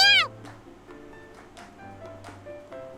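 A single loud, high kitten meow opens the moment in a video game, followed by quieter game ambience with soft background tones.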